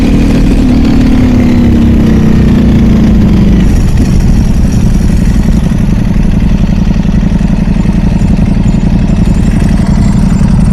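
A Ducati Desmosedici motorcycle with a full exhaust fitted runs close by on a sunny beach ride, a loud, constant throbbing engine drone with a low hum that eases slightly early on, no speech.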